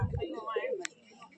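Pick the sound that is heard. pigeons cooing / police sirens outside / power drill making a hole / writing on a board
pigeons cooing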